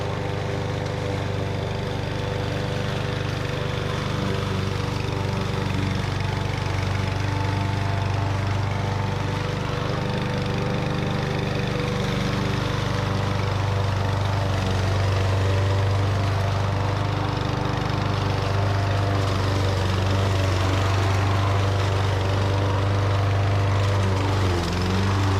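A Power Smart PSM2022 walk-behind self-propelled lawn mower with a 200cc gas engine and 22-inch deck runs steadily and loudly up close, its continuous low engine drone holding even throughout with no talk.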